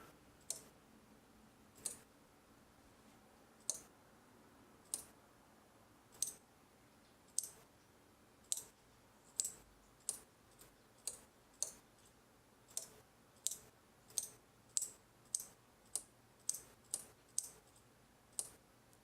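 A Sainsmart relay board driven by a Raspberry Pi clicks over and over, sharp mechanical snaps coming steadily at first and then faster and closer together, crisp and near against a quiet background.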